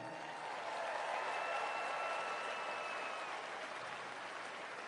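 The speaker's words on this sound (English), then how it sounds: "So I'm asking you to give yourself a round of applause right now." A crowd applauds at a Trump speech event, a steady broad wash of clapping from many hands that holds even and fairly distant for the whole stretch, with no voices standing out.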